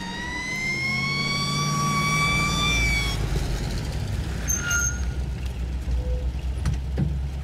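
A fire engine siren wails in steady rising and falling sweeps over a low truck engine rumble, then breaks off, leaving engine noise and faint scattered sounds.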